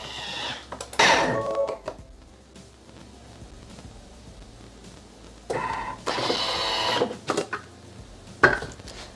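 A Thermomix (Bimby) chops parsley and parmesan at speed 10 in short loud bursts, with bright whirring and rattling surges, separated by quieter stretches of clatter and handling.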